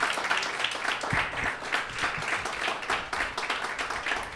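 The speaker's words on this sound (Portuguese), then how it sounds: "Dê um aplauso a Jesus, se você está entendendo" Steady applause from a church congregation during a sermon, dense overlapping hand claps sustained at an even level throughout with faint voices mixed in.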